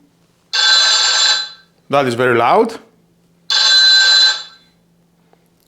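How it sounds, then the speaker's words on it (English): A TP-Link Tapo H500 smart home base plays its ringtone in two loud bursts of bright electronic ringing, with a person speaking briefly between them. "Play ringtone."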